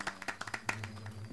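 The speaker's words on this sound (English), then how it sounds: "Cheers for the round of applause, fellas." Villagers clapping in the video game Fable Anniversary, a short burst of scattered hand claps over about a second, with a low steady tone underneath.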